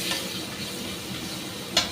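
Large prawns sizzle steadily in a hot wok of oil, a loud and continuous frying hiss close to the microphone. Near the end a single utensil clinks against the pan.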